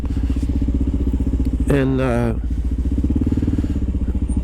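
A low-horsepower, old-school dual-sport motorcycle engine thrums steadily and close, with a brief human voice rising over it partway through.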